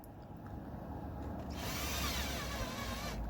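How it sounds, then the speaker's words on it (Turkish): Small power screwdriver driving screws into a Beko robot vacuum during repair, a quiet steady whine that rises into a higher, louder whirring run midway before stopping. "alttaki vidaların hepsini sıkmaya başlıyorum"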